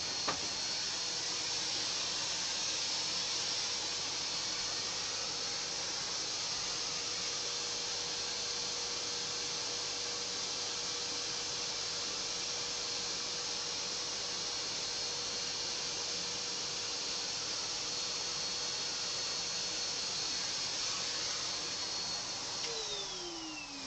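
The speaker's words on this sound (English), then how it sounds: "I'm just going to switch the vacuum cleaner on and then show you how it works" A backpack vacuum cleaner used for cleaning museum objects runs continuously at close range, a steady loud whining hiss and motor drone with no break, its pitch dipping slightly near the end.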